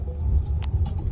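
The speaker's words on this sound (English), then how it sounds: "I'm in a car that's driving itself" Low road rumble from inside a self-driving car riding along a city street in Chicago, a steady engine-and-tyre drone with a few faint clicks and ticks on top.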